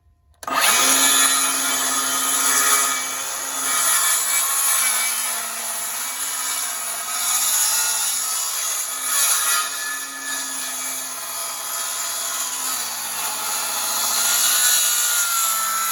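A power saw cuts a timber frame joint in one continuous, loud, close whine that varies gently in pitch as the blade works through the wood, starting abruptly after a short silence.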